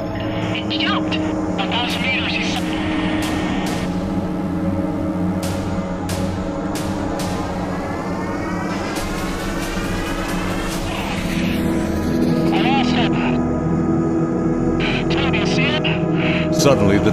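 Fighter jet roaring through a dogfight, a loud sustained engine whine that rises and sweeps past, continuous under spoken narration.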